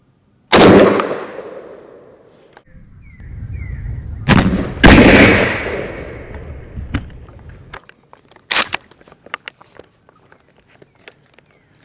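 A Mossberg 835 12 gauge shotgun fires outdoors at a 15-yard pattern target, a sharp loud blast with a long echoing tail, followed by further bangs and rustling handling noises.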